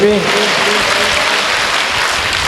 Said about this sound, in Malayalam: നന്നായിട്ട് കൈ നോവുന്ന പോലെ കയ്യടിച്ച് പ്രാർത്ഥിക്കാം